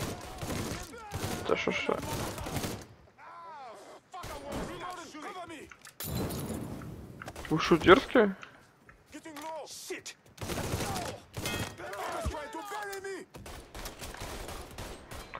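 Gunfire in the video game Mafia III rattles out in repeated bursts of shots and impacts, fairly loud and mixed with someone talking throughout.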